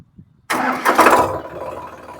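A Sonalika DI-734 tractor with a 37 HP diesel engine cranks and catches after a brief quiet moment, then settles into a steady, close rumbling idle.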